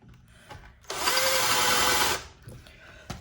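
A power drill bores into a pegboard wall in a craft room, one steady loud whir of a bit biting in for just over a second, starting and stopping abruptly, with quiet room sound before and after.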